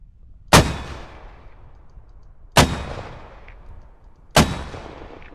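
Mortar in the Squad video game fires three heavy, booming launches about two seconds apart, each a loud close thump with a ringing, fading tail, alone with no talk.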